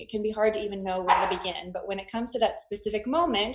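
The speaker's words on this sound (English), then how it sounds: "I don't know if you can hear the dog barking in the background" A dog barks in the background of a home setting while a person speaks steadily over it, the barks faint and partly masked by the voice.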